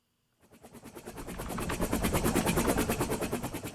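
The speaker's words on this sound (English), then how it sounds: "let's switch it off first and solo the helicopters" A helicopter fades in from silence, its rotor chopping in a rapid, regular beat that grows louder and steadier.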